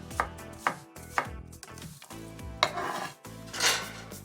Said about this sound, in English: The last bit is to chop up an apple.